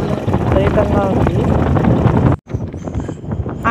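A fierce midnight gale rushes and rumbles over an open village spot, pressing on a tarp cover, loud and continuous with a brief drop, while people talk.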